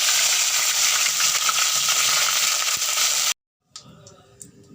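Mustard seeds and curry leaves sizzle and crackle loudly in hot oil for a few seconds, a dense continuous frying hiss, then cut off to quieter scattered pops and spoon stirring.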